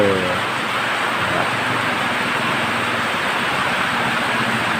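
Heavy rain pours steadily during a storm, a dense, loud, unbroken hiss throughout with a low rumble underneath and no clear voices.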